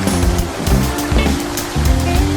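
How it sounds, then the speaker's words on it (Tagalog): A water fountain bubbles and splashes continuously in a humid outdoor spot, loud and close, in a churning wash with no talk. "Itong fountain. At bumubula-bula pa."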